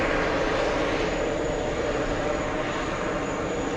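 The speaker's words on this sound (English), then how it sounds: "Delta's 234 flying to Tel Aviv. It's an A330neo. It's on the roll. It's racing down the runway." A Delta A330neo airliner bound for Tel Aviv roars down the runway at JFK on its takeoff roll, a loud, sustained engine rumble and whine that holds steady throughout.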